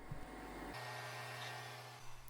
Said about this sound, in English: Over the tiled area, the robot will vacuum and mop